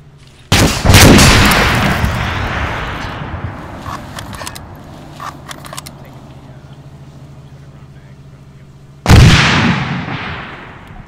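Rocket launches and explosions in Arma 3, two loud whooshing blasts with rumbling tails and scattered distant pops between them, no speech.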